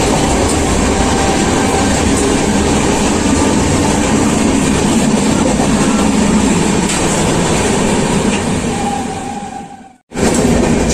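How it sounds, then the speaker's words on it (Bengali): The Howrah–Mumbai CSMT Mail (train 12810) runs along the track, heard from inside as a loud, continuous rumble with faint rhythmic clatter. The noise drops out sharply near the end, then resumes. "ট্রেনের আওয়াজ"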